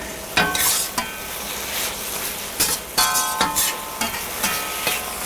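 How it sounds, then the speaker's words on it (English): Mushrooms and turkey being stir-fried in a pan, with steady sizzling throughout and a run of sharp utensil scrapes and clacks as the mix is stirred, close and fairly loud. "I'm going to stir the mushrooms and the turkey back in."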